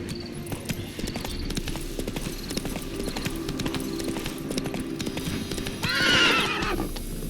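A horse in the video game The Witcher 3 gallops with rapid rhythmic hoofbeats throughout, and a loud whinny breaks out near the end.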